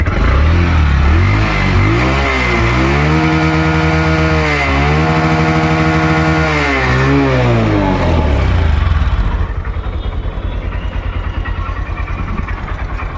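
A Honda Dream Yuga 110 motorcycle engine runs loud and close, revving up and down in several smooth swells before settling into a steady buzzing idle, with no voices.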